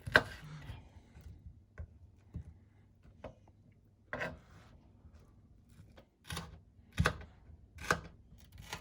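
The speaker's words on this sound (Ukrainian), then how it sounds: "Почистила цибульку червону і нарізаю її." Sharp knife strikes on a cutting board while dicing a red onion, irregular at first then a quicker cluster of chops toward the end, close and fairly quiet.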